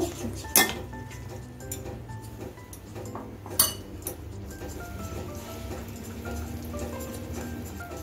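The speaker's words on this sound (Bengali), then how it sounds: "ভালো করে মিশিয়ে একটা ব্যাটার তৈরি করে নিচ্ছি" Gram flour batter for dhokla being whisked in a bowl, quick continuous tapping and scraping of the utensil against the bowl with two sharper clinks early on.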